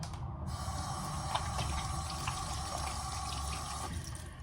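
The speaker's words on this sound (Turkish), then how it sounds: "Ellerimi bir yıkayayım da" Tap water runs steadily into a kitchen sink while hands are washed during cooking prep, a continuous close splashing hiss with no talk.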